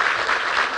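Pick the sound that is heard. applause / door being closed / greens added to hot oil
applause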